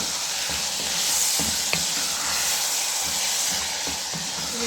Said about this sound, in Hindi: ये 1 पाव दाल है, 1 पाव दाल है, तो ऐड कर दें। अब हम इसको अच्छी तरह मिक्स कर देंगे।